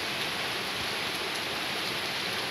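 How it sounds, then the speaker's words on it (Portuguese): Heavy rain pouring down at night in Porto Alegre, a steady, dense hiss of water with no breaks, loud and even throughout and no voices. "a chuva voltou a se intensificar"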